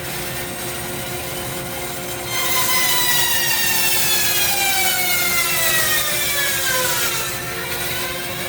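Bandsaw with a 3 horsepower motor resawing a wood beam, a steady loud cutting rasp with a whining hum that rises in pitch and slowly sweeps as the blade bites, continuous without voices.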